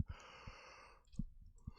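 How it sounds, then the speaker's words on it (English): A quiet, drawn-out yawn that sounds like a long sighing breath, set between a few soft low thumps, heard close and faint. "Is that a yawn I hear?"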